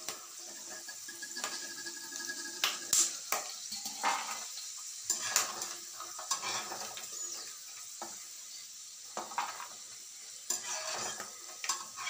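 Green moong dal stirred and lightly fried in a pan, giving a steady close sizzle broken by repeated scraping, clattering stirs, with no voices.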